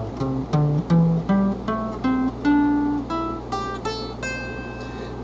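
A guitar picks single notes one after another in an ascending pentatonic scale, each note ringing briefly, clean and close.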